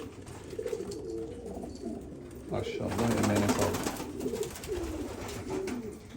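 Pigeons coo inside a coop, a steady low murmur of several birds close by, with someone talking over them throughout.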